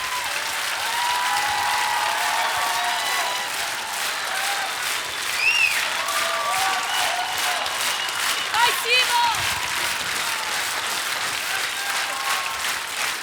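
Sustained audience applause in a televised singing contest studio, broad and even throughout, with a few brief voices and tonal sounds rising over the clapping.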